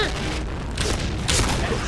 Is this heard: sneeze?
no